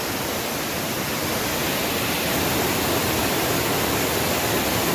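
A river flowing between Mankulam and Deviyar in Kerala makes a dense, steady rushing roar, loud and unbroken throughout with no other sounds standing out.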